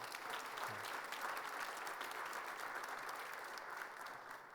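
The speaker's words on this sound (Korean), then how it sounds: "우리 박수로 한번 환영하겠습니다" A church congregation claps to welcome an elder during a worship service, a steady wash of applause from many hands that continues evenly before tapering slightly.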